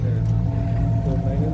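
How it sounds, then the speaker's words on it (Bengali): A small ferry boat pulls away from the dock on a Dubai canal, its engine a loud, steady low drone close by, while people talk over it. "এই যে নৌকাটা ছেড়ে দিল না,"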